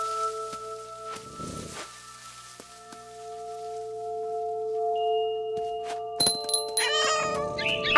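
Cat meowing in the video game What Remains of Edith Finch, a few short meows and a longer caterwauling cry over steady tonal game ambience and light rain, with brief chirping sounds near the end.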